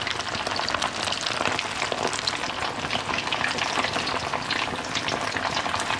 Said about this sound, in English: I'm going to fry these up until they're golden brown